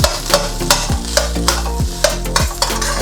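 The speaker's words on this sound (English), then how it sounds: "now we go into it and we just gently break it up" A utensil breaks up chilled, dry rice with egg in a hot pan, making repeated scraping knocks in a regular rhythm over a constant sizzle, loud and close with no voices.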